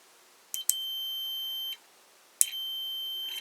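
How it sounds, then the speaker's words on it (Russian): Multimeter continuity tester giving two clean high-pitched electronic beeps as the probes are touched together, each lasting about a second, separated by a short gap, quiet and alone. "Перед любыми проверками должен замкнуть два щупа и должен быть звуковой сигнал."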